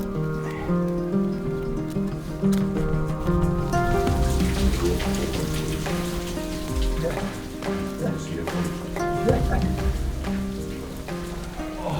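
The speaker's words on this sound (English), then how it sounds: "the weather came in really bad, so just a big band of rain and wind" Rain and wind sweep over a mountain hillside in Cantabria, Spain, a dense continuous patter of raindrops with gusty rushing, loud and close, mixed with a low steady drone.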